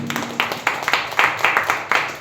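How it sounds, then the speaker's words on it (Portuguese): A church congregation applauding at the close of a service, with rhythmic, unison claps in a steady beat that grow louder and ring through the hall. "Aplausos a Ele"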